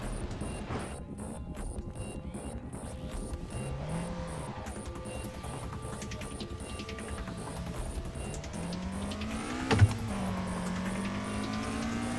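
A car engine in the Assetto Corsa racing sim while grip driving, revving and shifting steadily with tires squealing, engine pitch sweeping up and down, and a sharp knock near the end.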